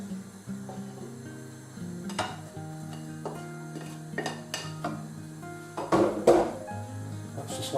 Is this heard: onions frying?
yes